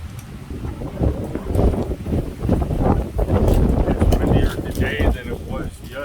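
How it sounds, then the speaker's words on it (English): Heavy wind buffeting a microphone in uneven gusts, a low rumbling roar running beneath a person talking throughout. "Wow, it's windy out here today."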